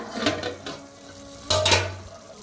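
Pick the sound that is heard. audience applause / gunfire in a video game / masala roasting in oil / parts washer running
masala roasting in oil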